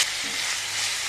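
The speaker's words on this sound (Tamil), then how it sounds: "இதுக்கு பிறகு நம்ம கொஞ்சம் கருவேப்பிலை சேர்த்துக்கிறணும்." Fennel seeds, cinnamon and curry leaves crackle in hot oil for prawn masala gravy. The sizzle is brief, steady and hissing, with a faint scrape of stirring and no voices.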